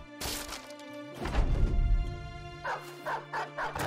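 A dog in the video game Battle Brothers gives a few loud barks, followed by a crash of combat noise and then a run of quick, rhythmic yips and snarls, over a droning game soundtrack.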